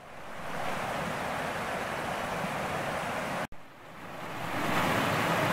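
A forest stream flows steadily, a continuous broadband rushing and burbling of water, close and even, with a brief dropout partway through before the flow swells again.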